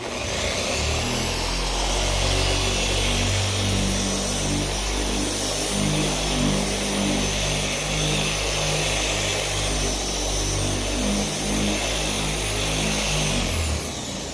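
A polishing machine spreads polish over the single-stage paint of a BMW E30, giving a loud, steady, close motor drone that runs unbroken for about fourteen seconds before tapering off.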